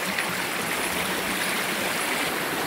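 Fresh mountain stream flowing steadily, a continuous broadband rush and babble of water over stones, close and even throughout with no voices.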